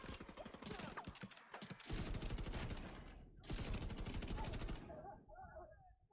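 Sustained light machine gun fire in The Division 2, long rapid bursts of loud automatic shots with a short pause between them, tapering off near the end.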